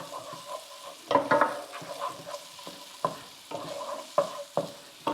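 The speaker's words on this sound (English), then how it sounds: "the residue of heat from that pan will just start to cook that garlic" Chopped garlic is stirred in a hot pan for lasagna, with a soft sizzle under repeated scraping and clinking strokes of the spoon against the pan.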